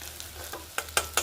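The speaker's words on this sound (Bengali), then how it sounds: "এইভাবে তেলে ভেজে নিতে হবে দেখুন এইভাবে লাল লাল করে আমরা ঢোকাগুলোকে তুলে নিচ্ছি" Elephant foot yam dumplings fry in hot oil, giving a soft steady sizzle broken by a few sharp crackling bursts close by, with no talk.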